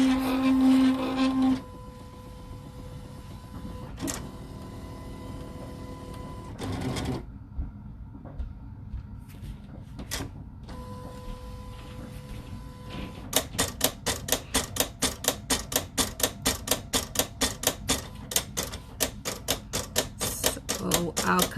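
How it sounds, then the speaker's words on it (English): A Silhouette cutting machine slices heat transfer vinyl, its carriage whirring in bursts and pauses, then settling into a fast, steady train of rapid clicking strokes toward the end, close and loud with no talking. "After the machine is finished cutting."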